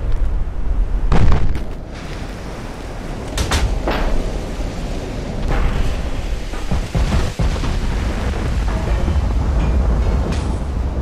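Shell hits burst against a warship in the naval game Ultimate Admiral Dreadnoughts as heavy booms and sharp cracks over a constant low rumble of battle, with several separate impacts spread across the stretch.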